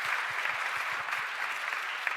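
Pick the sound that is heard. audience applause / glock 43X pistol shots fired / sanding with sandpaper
audience applause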